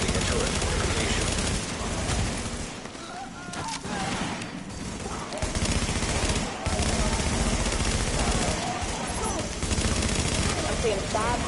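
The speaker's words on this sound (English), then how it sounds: "A turret fortification is taking fire." Sustained gunfire rattles at a turret fortification in the video game Nomad, with dense machine-gun bursts and fusillades running almost continuously at high volume, briefly thinning in places.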